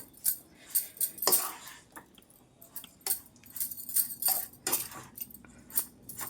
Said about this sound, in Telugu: బీట్రూట్ రవ్వ అంతా కలిసేంత వరకు మంచిగా కలుపుకోవాలి